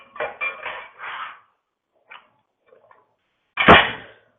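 A chef's knife dices produce on a cutting board in a quick run of close, crisp chopping strikes, then scattered light taps after a pause and one louder closing knock.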